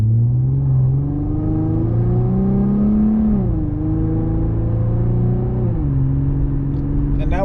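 An Infiniti with a Helmholtz catback sport exhaust pulls away from a traffic light at part throttle, its close, droning engine note climbing smoothly, dipping at two upshifts, then rising again under a steady low rumble.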